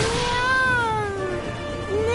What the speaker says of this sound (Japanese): 猫だよって喋っちゃった。 お腹が減って怒ってる